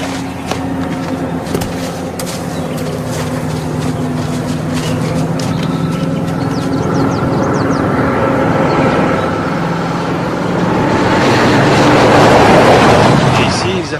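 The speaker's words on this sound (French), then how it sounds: "un bruit de moteur à midi, descends." A vehicle engine drones steadily as it approaches in a tense commando action setting, its rumble swelling louder toward the end amid a busy wash of background noise.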